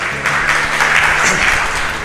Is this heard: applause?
yes